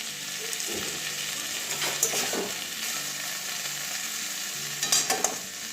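Half-boiled, softened drumstick curry sautés in a pan with a bright, continuous sizzle, broken by a few rough stirring scrapes and clatters close by.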